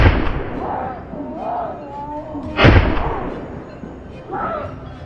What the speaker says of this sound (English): With a thunderous gunshot, the boar collapsed to the ground,